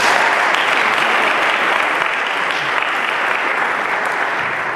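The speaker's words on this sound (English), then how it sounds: "So if we could give them a round of applause." A theater audience at a holiday event applauds, a loud, dense and steady wash of clapping that fills the whole stretch and fades slightly at the end, with no voices above it.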